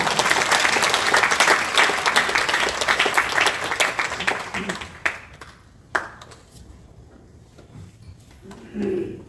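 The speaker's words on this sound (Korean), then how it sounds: "박수로 영접하겠습니다" A church congregation applauds loudly and steadily for several seconds, then the clapping thins out to a few scattered claps and goes quiet, with brief murmuring near the end.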